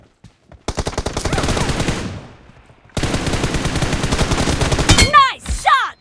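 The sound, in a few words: gunfire in the video game BGMI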